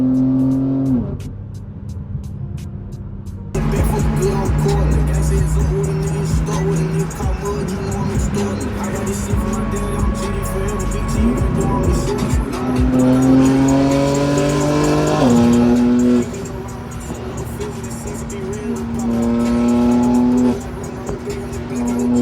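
BMW G80 M3 engine pulling hard under full throttle, a loud, close, rising roar that climbs through the gears with brief dips at shifts, continuous for about twenty seconds with no talking.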